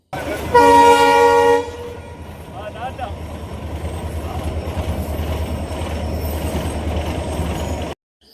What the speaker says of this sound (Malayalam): അതാ വരുന്നു നിറയെ യാത്രക്കാരുമായി ചൂളം മുഴക്കി ഒരു തീവണ്ടി